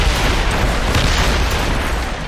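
Mortars firing during a naval battle in the video game Assassin's Creed Rogue, a loud sustained rumbling boom with a deep low-end roar.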